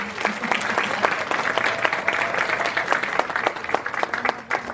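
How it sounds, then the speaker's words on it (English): A conference room full of people clapping steadily, a dense applause that holds for several seconds before tapering slightly at the end. "Another round of applause for her."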